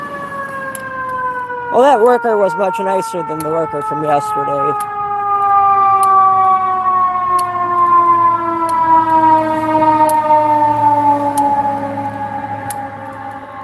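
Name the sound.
ambulance siren passing on the street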